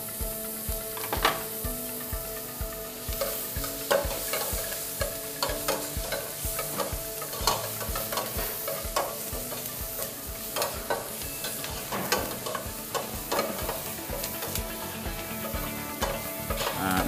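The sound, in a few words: garlic and onion sautéing in pan for carrot soup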